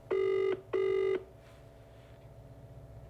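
A phone call being placed: two loud, even electronic ring tones in a row, each about half a second long, then a quiet line hiss, with no one speaking.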